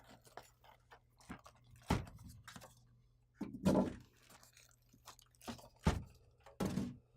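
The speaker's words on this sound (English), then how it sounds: "remove the styrofoam end caps one at a time" Styrofoam end caps are pulled off an HP Officejet 4650 printer in its box, giving scattered quiet squeaks, crunches and rubbing bursts separated by near silence.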